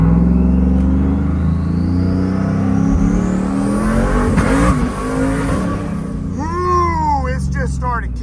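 A lifted Ram 1500 pickup with a Hemi V8 making about 922 rear-wheel horsepower rumbles and revs loudly from close by. The deep engine roar rises and falls, and a voice speaks briefly near the end.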